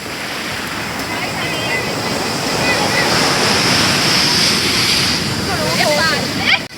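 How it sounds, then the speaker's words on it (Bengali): Strong ocean waves at a Mangalore beach in Karnataka as night falls, a loud, steady roar of surf breaking close by, with voices faintly underneath. "দেখো এখন রাত হতে দেখো কি জোরে ঢেউ, খুব জোরে ঢেউ ছিল।"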